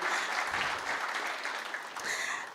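An audience at an innovation space launch gives a soft round of applause, a fairly distant, even patter of many hands lasting a couple of seconds with faint voices mixed in.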